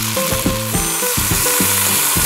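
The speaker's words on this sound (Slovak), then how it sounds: "Pridáme biele suché víno." Dry white wine is poured into a pan of frying chicken pieces with sage, setting off a loud, close sizzle that rises in bursts and bubbles steadily.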